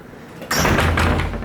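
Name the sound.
door of a beach house being opened or closed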